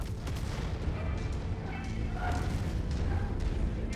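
Dense, continuous barrage of heavy weapons fire from battling mechs in MechWarrior 5, with booming shots layered over a steady roar and no clear pauses.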